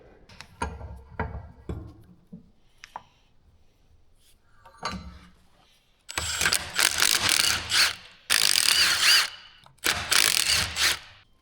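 An impact wrench hammering at old, oxidized iron and aluminum bolts on a Mack truck tank, starting with scattered metallic clanks and then giving three long, loud rattling bursts with short pauses between them.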